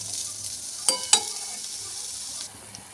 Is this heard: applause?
no